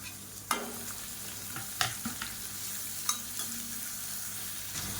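Chopped carrot, beans and cabbage sauté in a hot pan, a steady sizzle broken by a few sharp clicks and scrapes of a stirring spoon, close and alone with no voices.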